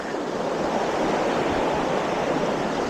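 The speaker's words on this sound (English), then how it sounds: "Nice little river." A small river flows steadily along a hiking trail, giving a continuous broad rushing wash that stays loud and even throughout with no voices.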